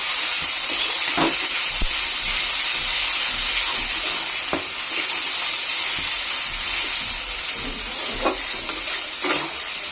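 Chopped tomatoes fry with browned onions in a pan, a steady bright sizzle with occasional scrapes and clicks of stirring, close and continuous.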